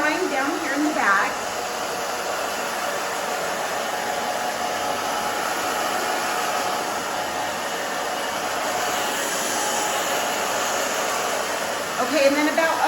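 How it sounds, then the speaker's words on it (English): A hair dryer blow-dries the back of a woman's short haircut, a loud steady whooshing roar running throughout with only small shifts in airflow. "Robin, I'm just drying down here in the back"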